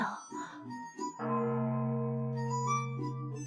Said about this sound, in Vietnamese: Đây là hoán linh chuông của tông môn, dùng để triệu hồi cao tầng của tông môn.